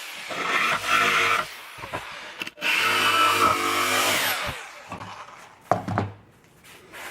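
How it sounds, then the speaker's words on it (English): A jigsaw cuts through a wooden board in loud buzzing bursts, with short pauses between passes as the blade is repositioned, ending in a final brief burst. "So I'm just going to finish it off with the jigsaw."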